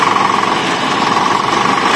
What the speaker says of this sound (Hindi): इसको अजय भाई ये बना चला के रिपर और काट देगा।